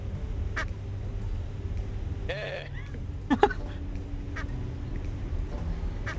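A rubber duck in the video game Lethal Company gives a couple of short squeaky quacks, set against steady game background noise.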